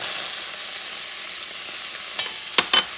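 Chopped onion, about half or a quarter of one, sizzles steadily in leftover oil in a pan, a constant close hiss with a few sharp clinks and scrapes near the end.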